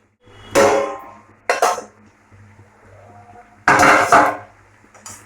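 A lid is set over a pot of frying spice mixture, producing a few sharp metallic clanks and rattles spaced apart, close and fairly loud against a quiet background.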